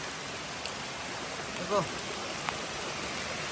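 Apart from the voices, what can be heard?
rain falling by a river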